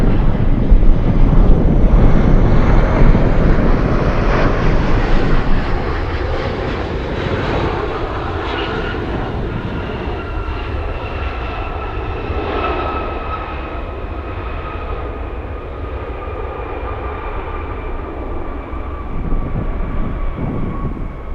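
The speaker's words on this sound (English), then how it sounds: "this is Northern Air Cargo flying in from Utqiagvik" A Northern Air Cargo Boeing 737-800 flies in from Utqiagvik on a gusty day, its loud jet roar strongest at first and then easing into a sustained drone with whining tones, wind buffeting the microphone.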